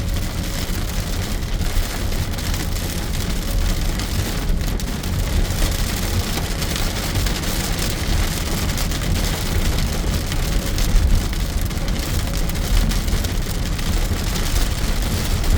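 Heavy rain during a gusty thunderstorm in Southern Alberta, a loud, unbroken roar of downpour drumming on a vehicle for the whole stretch, with no voices.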